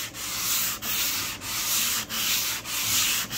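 Sandpaper rubbed by hand across grain filler on an oak surface, a steady close scratchy hiss in long strokes broken by brief pauses roughly every half second to second.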